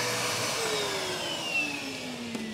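A Numatic Henry HVR-160 compact canister vacuum cleaner running, a steady close whine and airy rush with a pitch that slowly sinks as the suction is loaded, continuous and alone.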